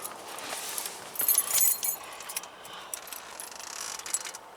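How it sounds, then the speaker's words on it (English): Keys jangle close by inside a GMC Jimmy cabin, a brief bright metallic rattle with a few clinks, not loud, before the ignition is tried. "keys right there."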